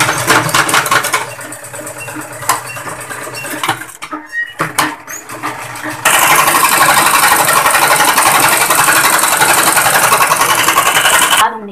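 A tailor's sewing machine stitches lace onto a women's suit, a loud, close mechanical whir that runs in short bursts at first, then in one continuous steady run.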